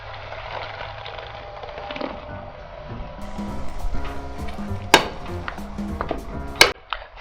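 Tomato paste stirred in a cooking pot, heard as soft scraping and bubbling with a few sharp metallic knocks of a spoon against the pot near the end.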